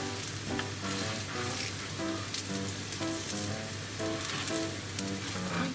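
Potato cheese cake frying in a pan, a soft steady sizzle with fine crackling pops, close and even throughout.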